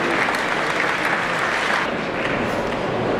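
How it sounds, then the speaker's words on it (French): An audience at a national agricultural high school trophy event at an agriculture fair gives a team sustained applause, a dense, even clatter of many hands clapping at once, with faint voices underneath. "Applaudissements pour cette belle équipe."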